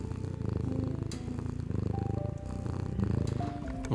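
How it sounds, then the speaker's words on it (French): A cat purrs close up with a steady, throbbing rumble that rises and falls with each breath, under faint background noise and no talk. "Ça ronronne, voilà."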